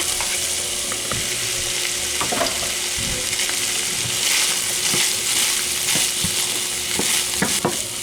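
Half of a large chopped onion frying in a pan for a pizza casserole, a loud dense sizzle with scattered stirring scrapes and crackles, steady and close throughout with no talking.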